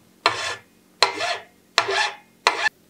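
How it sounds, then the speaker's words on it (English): Hacksaw cutting through a bicycle steer tube, four rasping strokes in a steady back-and-forth rhythm, close and clear with brief pauses between them. "use your hacksaw and cut it the rest of the way through"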